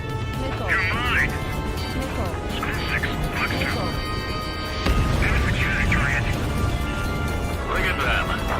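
Decoy aircraft blowing up on the ground in the Ace Combat 7 video game, dense explosive crashes and booms over constant jet engine roar and music, continuous and loud.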